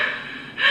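A voice imitates heavy, out-of-breath breathing, a breathy gasping exhale that swells louder near the end, close to the mic.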